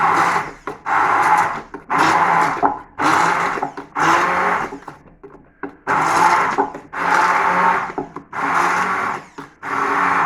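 A blender purees spinach and herbs in loud, close pulses: roughly eight bursts of whirring motor separated by short pauses, with no voices.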